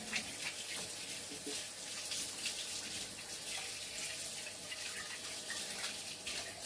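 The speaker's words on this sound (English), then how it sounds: "Now, let me wash my hands." Hands being washed under a running kitchen tap, a steady hiss and splash of flowing water with faint irregular splatter, moderately quiet and continuous with no talking.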